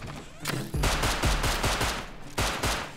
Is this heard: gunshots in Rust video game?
yes